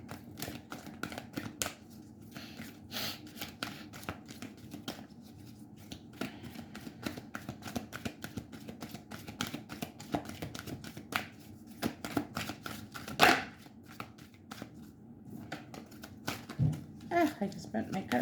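Oracle cards being shuffled and bent by hand, a steady run of quick papery riffles and snaps close up, with a voice now and then.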